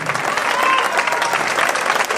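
An audience applauds at a music festival award ceremony, steady dense clapping close and loud throughout, with faint voices mixed in.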